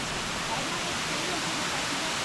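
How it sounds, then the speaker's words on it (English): A waterfall in Java, Indonesia roars as a constant broad wash of rushing water, close and fairly loud, with people talking over it. "the waterfall looks really nice though, doesn't it?"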